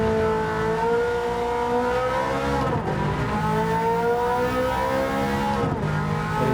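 Racing car in Gran Turismo 7 set with a limited slip differential, accelerating hard with the engine revving up through the gears in two clear shifts, loud and continuous, with no voices.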